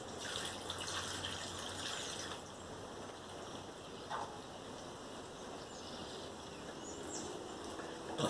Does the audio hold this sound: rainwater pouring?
yes